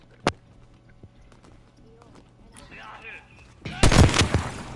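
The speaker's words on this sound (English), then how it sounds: "Snipe the boss in the head once." Sniper rifle shots in a Superman-themed shooter game: a single sharp crack early, then a louder burst of several rapid shots near the end, with quieter game noise between.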